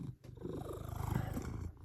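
A cat purrs steadily and close during a face rub, a low continuous rumbling throb that holds for nearly two seconds with no talking over it.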